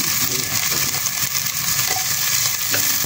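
White sweet onion and golden garlic sauté in olive oil for chili con carne, producing a loud, continuous close sizzle with light stirring scrapes throughout.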